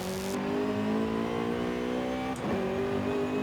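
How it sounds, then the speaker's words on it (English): A Honda-engined car revving in the racing game Forza Horizon 5, heard from inside: a loud, steady engine drone with layered harmonics, briefly dipping then resuming near the end. "it sounds so much better with the Honda engine from the inside anyway"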